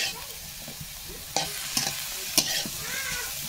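Banana stem and shrimp curry being stirred in a pan, with soft sizzling under a few distinct scraping strokes of the spoon, fairly quiet and close.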